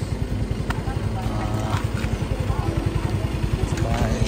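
Motorcycles on a road trip through Adams, Ilocos Norte, Philippines, a steady pulsing engine drone running close and continuous, with people talking over it.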